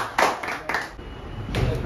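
A small audience of students gives a brief round of clapping for a fellow student, a few distinct, close claps in quick bursts lasting under two seconds.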